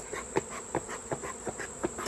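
Honeybees buzz at the hive during a honey harvest, a steady soft hum with faint wingbeat pulses and a thin high whine, fairly quiet and close.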